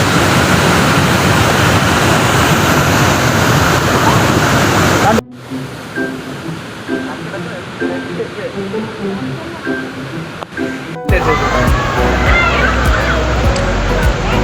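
Water rushing at Hogenakkal waterfalls, a loud continuous roar that drops to a quieter rush midway, then surges back loud.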